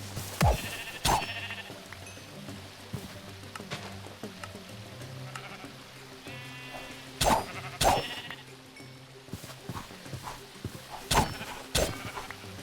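Sheep bleating in the survival game RLCraft, a Minecraft modpack; several short, fairly loud bleats come in bursts at irregular intervals over a low, steady background hum with occasional thuds.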